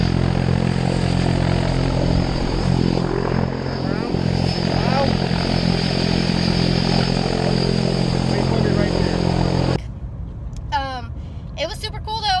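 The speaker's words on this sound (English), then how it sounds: "We got in this tiny little ass plane and went up super fast." Small propeller plane climbing quickly after takeoff, its engine a loud, steady droning roar heard from inside the cabin for most of the clip before cutting to a quieter, thinner interior sound.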